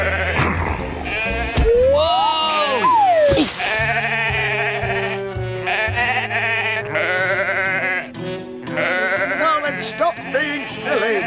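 Sheep bleating at a Greendale farm show, loud and wavering cries repeated over a busy musical background, with voices present in the mix.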